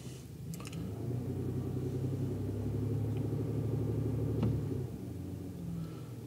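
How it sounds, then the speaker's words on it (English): A 2020 Chevrolet Colorado 3.6 V6 with a variable valve timing fault, power braked in a shop, holding a loud, steady engine drone with a rough low rumble, easing off near the end. "I just want to confirm if we can get this thing to act up by power braking it."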